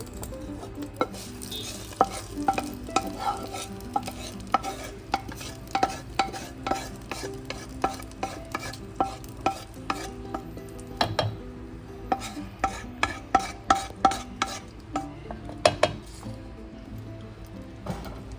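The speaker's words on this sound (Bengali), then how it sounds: "এটা আমি সুন্দর করে নাড়িয়ে নিচ্ছি।" A spoon scrapes and clinks rhythmically against a bowl while tempering is stirred into chutney, steady close repeated taps and scraping strokes with a faint sizzling underneath, no talk.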